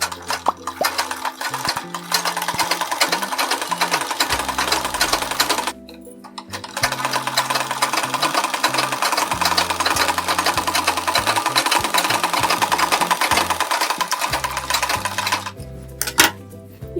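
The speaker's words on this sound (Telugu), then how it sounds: "ఇలా ఇటువైపు తిప్పుకొని ఇలా చుట్టూ కూడా ఒక స్టిచ్ వేసుకుంటూ రావాలి" A sewing machine stitches around a blouse sleeve with a steady, close whirring run, pausing briefly near the six-second mark and again near the end before each burst resumes.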